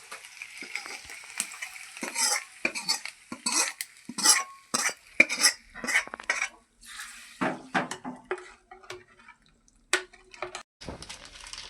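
A tempering with curry leaves is tipped into dal for South Indian idli sambhar and stirred, giving a close hiss of sizzling with irregular clinks and scrapes of a metal spoon against the pot, and brief quiet gaps between.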